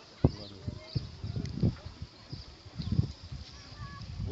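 A goose honks at Lake Kournas on Crete, with several short, loud calls spread across the moment, set against outdoor lakeside ambience, and someone talks intermittently.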